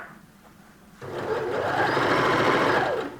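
A sewing machine stitching the seam of scrubs trousers: after a quiet second the motor starts and runs in a fast, steady whirring hum at close range, then eases off at the end.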